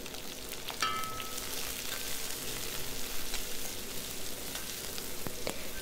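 Shallots, garlic cloves and a green chili sautéing in a pot for a bachelor-style fish curry, giving a dense steady sizzle with scattered stirring scrapes, close and without speech.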